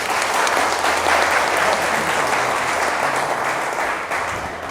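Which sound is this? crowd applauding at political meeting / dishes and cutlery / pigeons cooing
crowd applauding at political meeting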